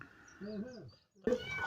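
A cat gives a short, rising-and-falling meow, followed by a brief burst of rustling and a faint voice, after being rescued by firefighters.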